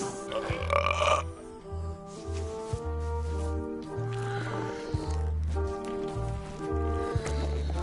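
Burps ring out during a burping contest, loud belches set against a rhythmic, deep musical backing that continues throughout.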